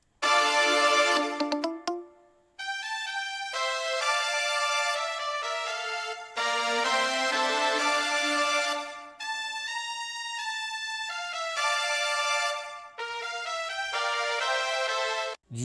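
First melody of a rap beat production built from a sample pack, bright synth or bell-like tones playing a repeating phrase in sections with brief pauses, clear and alone without voices.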